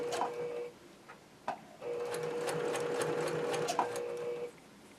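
A sewing machine stitches a pieced quilt curve in short runs, its steady mechanical whirr stopping and starting as the fabric is eased around, with brief pauses and small clicks between bursts.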